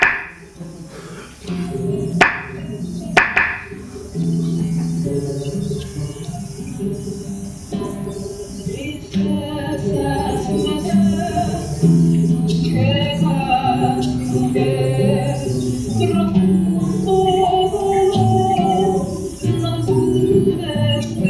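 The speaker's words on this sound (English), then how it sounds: "This is the first bolero written by Pepe Sanchez, and the title is Tristezas." Live performance of the bolero Tristezas by Pepe Sanchez, a traditional Cuban trova song, heard in a lecture hall: a few sharp knocks at the start, then a continuous melodic instrumental passage at moderate volume with no talking.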